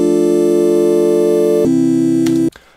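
A sustained synthesizer chord from a software instrument patch in Logic Pro holds steady and loud, shifts to a slightly different voicing partway through, then cuts off abruptly with a short tail.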